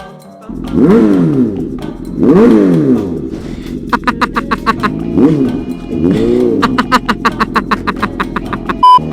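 An aftermarket exhaust on a vehicle revving loudly in repeated bursts, each rev sweeping up and falling away, later giving way to rapid popping crackles, close and dominant with no talk.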